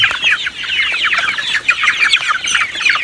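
A flock of two-month-old farm chickens clucks and chirps in a continuous, busy chorus close by, the calls overlapping without pause.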